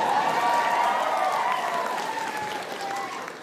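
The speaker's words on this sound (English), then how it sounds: "You may whoop and cheer" An audience at a stand-up comedy show bursts into loud applause and cheering, a dense wash of clapping and whoops that slowly tapers off over a few seconds.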